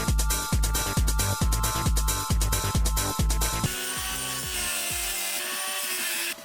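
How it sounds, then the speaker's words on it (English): A power tool saws through aluminum joystick mounts for an arcade control panel, a loud rhythmic series of regular cutting strokes that gives way to a steadier grinding whine before stopping, with no talking. "sawing these joystick mounts to get it to fit the cutouts"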